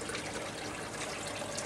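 Steady gushing water drains through a bell siphon in an aquaponics grow bed, a continuous broadband splash and gurgle running unbroken at moderate level.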